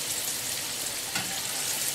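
Fish cutlets fry in a hot pan with oil, giving a steady, even sizzle and a brief pop partway through, with no voices.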